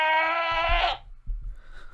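A screaming goat in Minecraft lets out one loud, harsh, drawn-out bleat lasting about a second, followed by low thuds and faint background sounds.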